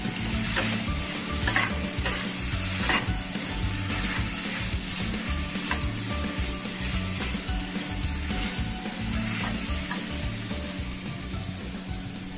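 Noodles fry in a hot tempering pan, a steady close sizzle with repeated scraping and stirring strokes from a utensil throughout.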